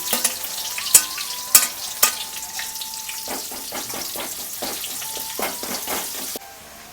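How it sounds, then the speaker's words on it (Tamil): Onions and chicken fry in a pan and are stirred, giving a close, steady sizzle broken by repeated scraping stirs and a few sharp knocks. The sizzle drops away abruptly near the end, and no one talks. "வெங்காயத்தை மட்டும் வதக்கிட்டுலாம்"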